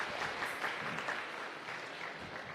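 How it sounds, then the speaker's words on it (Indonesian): An audience of married couples applauds continuously, a steady wash of clapping from many hands that stays even and moderately distant throughout the short stretch. "Tepuk tangan untuk Anda."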